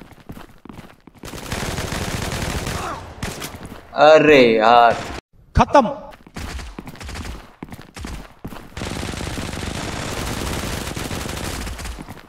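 Gunshots in the mobile FPS game Zula Mobile, a loud burst of rapid fire followed by a shorter second burst, set among quieter game sounds with someone commentating before and after.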